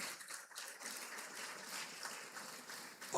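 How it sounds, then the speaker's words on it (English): Steady applause from a graduation audience at Dinthill Technical High School for a member of parliament, heard as a faint, even wash of many hands clapping with no single claps standing out. "Give her a big round of applause"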